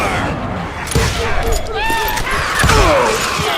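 Video-game gunfire rattles in the Western shooter Call of Juarez: Gunslinger, a loud burst of several sharp shots and thuds in quick succession over a noisy, busy background.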